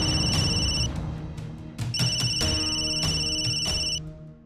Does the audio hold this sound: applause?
no